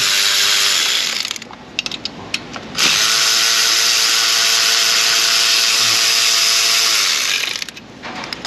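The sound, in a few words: ratchet with 10mm socket working on Silverado engine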